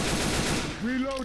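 Rapid automatic gunfire in the co-op shooter game Left 4 Dead 2, a dense burst of shots that gives way to a rising voice-like tone, with players talking during the match.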